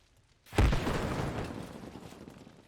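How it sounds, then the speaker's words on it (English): A burning vehicle in Arma Reforger blows up with a sudden deep boom, then a long rumbling tail that slowly fades over a couple of seconds, heard alone without voices. "let's have a look at how cool this explosion is."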